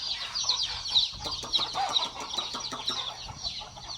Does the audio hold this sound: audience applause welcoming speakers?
no